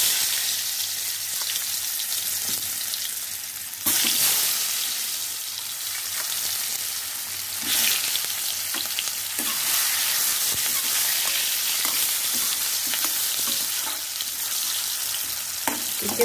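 Three potatoes fry in hot oil, giving a steady crackling sizzle with occasional sharper pops and brief stirring scrapes, moderately loud and with no voices.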